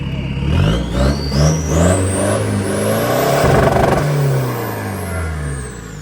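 A Chevrolet Colorado pickup truck engine revs loudly nearby, rising in pitch through repeated throttle blips and a long sustained climb before falling back toward idle, with a whining whir layered over the engine roar.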